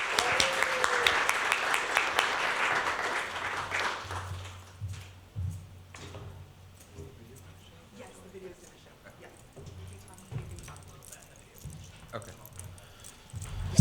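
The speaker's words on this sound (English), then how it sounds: "Let's give a round of applause for Silver" An audience at a Two Spirit artist showcase breaks into loud applause that fills the first few seconds, then fades to scattered claps and quiet room noise.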